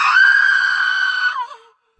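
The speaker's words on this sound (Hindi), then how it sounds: "अचानक वो परछाई चीख उठी" A shadow jinn from a horror tale lets out a single long, high, shrill scream that holds steady for over a second and then drops off and trails into silence, close and loud.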